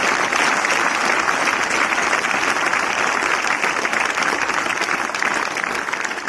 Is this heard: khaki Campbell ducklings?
no